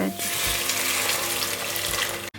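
Water poured from a tap into a pan of Tabriz kofta sauce made with oil, black pepper and salt, a loud steady rushing stream running for about two seconds before stopping abruptly.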